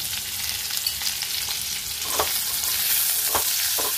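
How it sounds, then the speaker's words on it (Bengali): Cut potato pieces fry with salt and turmeric in a pan, sizzling constantly and close by, with a few sharp stirring scrapes in the second half. "এবার আমি টুকরো টুকরো করে কাটা আলুগুলোকে এর মধ্যে দিয়ে ভালো করে একটু ভেজে নেব।"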